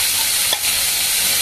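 Boiled banana stem goes into a hot pan, producing a loud, broad sizzling hiss that flares briefly as it lands, close and continuous with no talking.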